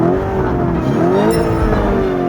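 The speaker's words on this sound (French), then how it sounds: "on va mettre le mode sport. Écoutez" A luxury sports car revving in sport mode, a loud, steady engine roar with a rising-and-falling pitch sweep and a brief tire-squeal edge near the end, no voices.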